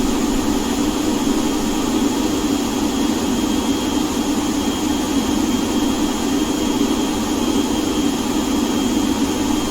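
Avro RJ100 jet engines accelerating in the X-Plane 11 flight simulator give a loud, steady, unbroken roar with a constant whine layered on top, heard close and with no voices.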